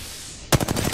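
A light machine gun in Apex Legends opens up after a brief lull, firing a fast burst of sharp, evenly spaced shots at close range, with no voices.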